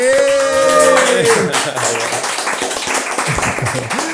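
Clapping and cheering from a talk-show audience welcome sexologist David Moncada onstage, loud and steady for about four seconds, with a sung or shouted voice ringing out at the start and tonal sounds fading beneath the crowd.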